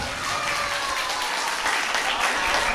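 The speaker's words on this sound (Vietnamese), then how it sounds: "Cho một chàng vỗ tay thật lớn thật dài lên coi" Sustained applause from an audience at an evening summer class gathering, dense and steady clapping filling the room for the whole stretch with some voices mixed underneath.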